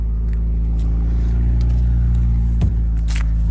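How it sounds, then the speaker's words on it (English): A McLaren GT engine runs at a steady, deep idle, close by and loud, with a low, even rumble and one brief blip near the end. "Let's start it up, get it going so we can hear it."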